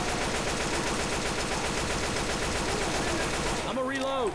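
Rapid automatic gunfire in the video game Left 4 Dead 2, a dense continuous burst of shots for about four seconds that cuts off near the end, with a brief voice-like sweep after it.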